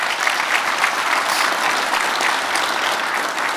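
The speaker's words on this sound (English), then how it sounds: "Let's give Kalmbach a round of applause on that," Dense, steady applause from a large conference audience honoring an awards recipient, a continuous wash of many hands clapping at even loudness throughout with no voices standing out.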